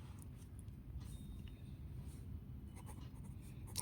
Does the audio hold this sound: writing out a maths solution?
yes